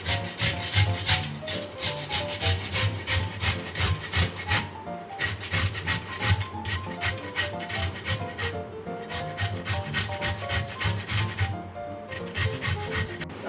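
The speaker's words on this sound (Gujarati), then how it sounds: "આપણે બીટના લાડુ માટે તો આ રીતે ખમણી લીધું છે।" Peeled beetroot rubbed steadily against a kitchen grater for beetroot ladoo, a close, continuous rasping scrape in quick repeated strokes with brief pauses, no talking.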